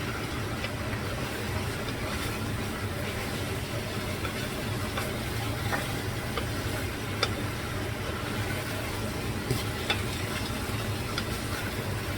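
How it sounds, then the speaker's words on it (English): Oxtail stew heating in a pot gives a dense, continuous bubbling and sizzling texture with faint scraping from stirring. The sound holds at an even level throughout, with no voices. "Stir it up, heat everything back up."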